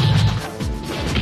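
In a boxing video game, a corkscrew blow punch lands as a sharp, loud smash followed by quick secondary thuds, one short impact burst.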